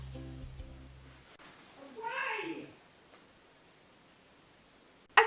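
A house cat gives a single drawn-out meow, fairly near and moderately loud, after a few seconds of low tones, followed by quiet room noise and a sharp click at the end.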